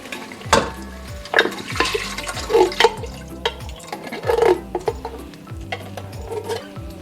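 Coconut milk, 400 ml, is poured into a curry pot with red curry paste and kroeung, giving a wet, gurgling pour with splashing and stirring surges, close and fairly loud, without speech.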